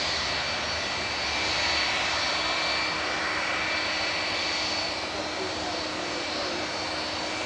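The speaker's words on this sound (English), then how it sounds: "One of the oldest aircraft in passenger service, 36-year-old airframe this." A 36-year-old passenger jet airliner at Manchester Airport gives off a steady, moderately distant engine roar with a faint high whine, holding an even level throughout.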